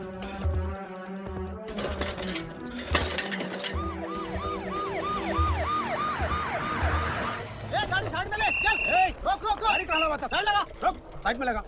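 Wailing, swooping VIP car sirens rise and fall repeatedly amid a rhythmic horn pattern, loud and close, with voices talking beneath.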